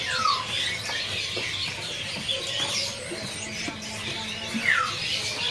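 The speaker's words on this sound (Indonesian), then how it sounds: "Ini ada burung teledekan mugimaki jantan trotol ya." Male mugimaki flycatcher calling at a bird-selling kiosk, with a few sharp squeaky chirps and descending squeals over a busy background of other birds and faint voices.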